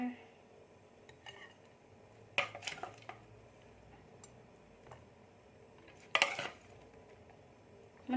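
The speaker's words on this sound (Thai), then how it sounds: "ตักใส่ถ้วยใส่จานเลยนะ" Food being scooped into bowls and plates, instant noodle salad with shrimp, squid and crab sticks, heard as sparse, faint clinks and two sharper clatters of utensils against dishes, with quiet stretches between.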